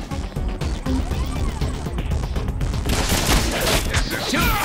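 Gunfire in the Deadpool video game comes as dense, loud bursts of rapid shots mixed with impacts and crashes. It continues for several seconds, close and chaotic, under a faint voice.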